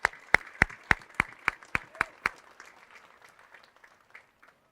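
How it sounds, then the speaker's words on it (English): At a high school graduation ceremony, a few loud, distinct claps ring out in a quick, evenly spaced series, then fade into scattered, fainter clapping that dies away. "please give your teachers, supervisors, administrators, and school staff one last round of applause"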